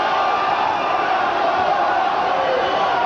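A boxing arena crowd roars and chants for fighter Zaragoza during a bout against Morales, a dense, sustained wall of many voices, loud and continuous without clear breaks.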